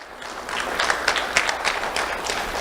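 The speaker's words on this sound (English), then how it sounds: "Round of applause for William." An audience at a sheriff's office awards ceremony bursts into applause, many hands clapping in a bright, dense patter that swells and holds steady for a few seconds.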